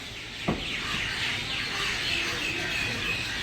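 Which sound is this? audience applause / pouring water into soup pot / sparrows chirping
sparrows chirping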